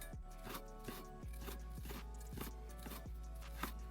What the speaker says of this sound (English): All that's left now is to just slice into it.